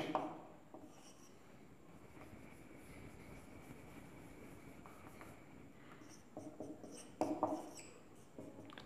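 Faint scratchy strokes of a chemical formula being written on a board, coming in a few short bursts at the start and near the end over a quiet room hum.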